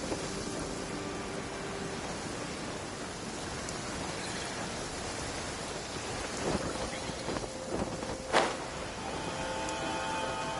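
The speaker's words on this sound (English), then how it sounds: "Taking shelter and listening to the rain cleanse the earth makes me feel safe." Steady rain falls in the video game Genshin Impact as a continuous broadband hiss, with a few low rumbles of thunder and a sharper crack of thunder near the end.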